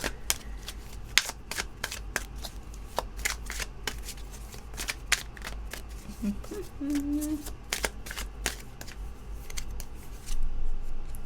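Tarot cards being shuffled close by in a quiet room, a run of crisp irregular riffling snaps and flicks with a brief soft tone in the middle.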